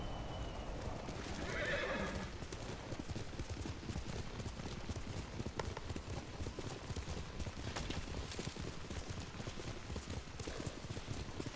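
A horse in the samurai video game Ghost of Tsushima gives a whinnying neigh near the start, followed by steady rhythmic hoofbeats clip-clopping away across the ground, faint and continuous.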